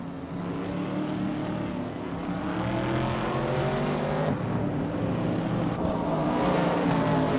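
A 1970 Pontiac Firebird races in a video game alongside other cars, engines droning loudly and steadily with shifting pitch as they rev and pass, no talking.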